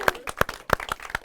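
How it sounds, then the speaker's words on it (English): Sparse, uneven hand clapping at a fragrance presentation honoring perfumer Christian Provenzano, a handful of sharp close claps spaced irregularly over a second, thin rather than a full crowd ovation. "Can we have a big, big, big round of applause for Christian Provenzano?"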